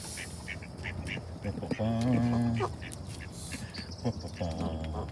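Ducks quack in short bursts amid an outdoor backdrop, with a longer nasal call in the middle and people talking nearby.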